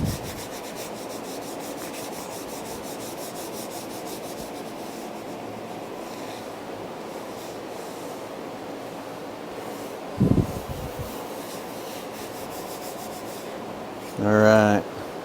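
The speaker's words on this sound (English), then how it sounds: "then we're going to rub that down," A sublimation transfer sheet is rubbed down by hand onto a floor mat, giving a soft, continuous papery scrubbing at close range, with a brief thump partway through and a short louder rustle near the end.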